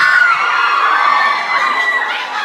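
A dense crowd of young fans shrieks and cheers for a pop star, with high-pitched screams that stay loud and sustained throughout and fade slightly toward the end.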